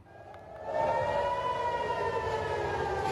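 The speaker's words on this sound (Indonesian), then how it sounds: "suara sirine tanda peringatan terdengar di sejumlah titik di kota Tel Aviv" A civil defense air raid siren wails across Tel Aviv, its steady rising tone swelling in loudness over the first second and then holding a sustained, slightly wavering howl with no voices.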